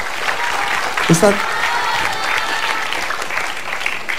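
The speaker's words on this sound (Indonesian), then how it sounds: "Tepuk tangan dong, luar biasa sekali." Studio audience clapping on an Indonesian television program about a Quran memorization method, a steady wash of applause with a brief voice cutting in near the middle.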